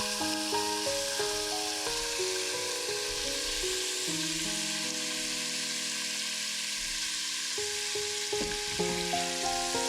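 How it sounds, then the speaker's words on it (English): Steady oily sizzling and crackling of pork pieces searing in hot oil in a pan, continuous throughout with occasional louder spits, no voices. "Add the pork pieces and sear till just turning brown."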